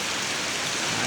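Heavy rain pours down steadily in a continuous dense hiss, loud and unbroken, with no voices over it.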